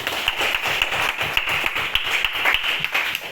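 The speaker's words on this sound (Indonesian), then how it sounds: "Kasih tepuk tangan untuk Arif dan Nafika." A small classroom group claps for two students presenting, a modest burst of hand claps with distinct individual slaps in a quick, uneven rhythm, close and lively.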